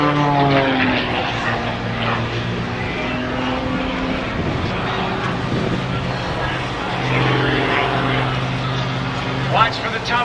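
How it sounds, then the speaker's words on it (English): A propeller aerobatic airplane performing a torque roll at an air show hangs on its prop, with a loud droning engine whose pitch shifts and wavers over time, while an announcer talks over it. "He'll point the nose back down after he completes this torque roll, backing it up, hanging it on the prop"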